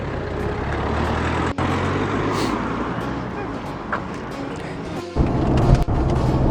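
A car driving on a road in Italy, its steady engine rumble and road noise loud and close throughout, with a brief bump near the end.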